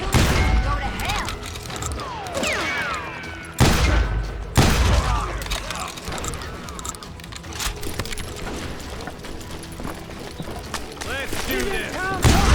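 Gunfire rattles through a Wild West street shootout in Call of Juarez: Gunslinger, repeated sharp shots and bursts amid game sounds, with a voice talking over the action.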